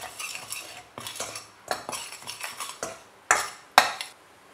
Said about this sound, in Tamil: எண்ணெயில் சில்லி பவுடர், மஞ்சள் பொடி, கொரியாண்டர் பவுடர் இதெல்லாம் சேர்த்து மிக்ஸ் பண்ணிக்கணும்